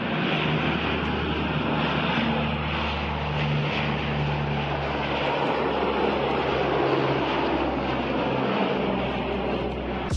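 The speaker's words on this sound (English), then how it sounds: "This C-130 creating vortices behind its propellers" Lockheed C-130 turboprop running its propellers, a loud, steady, broad engine roar with a low throbbing drone that holds constant without a break or any voices.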